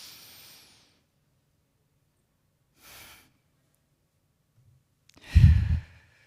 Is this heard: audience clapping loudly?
no